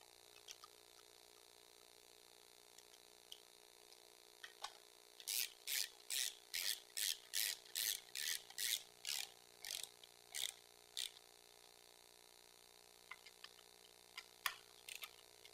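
Bolts being tightened on a custom chopper motorcycle, heard as a run of about a dozen quick, evenly spaced ratcheting clicks up close in an otherwise quiet space.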